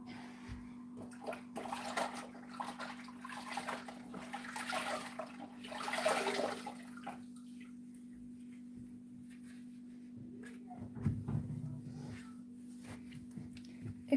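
Warm water runs from a tap as stove plates are rinsed, a continuous faint splashing that swells louder around the middle and again near the end, over a steady low hum.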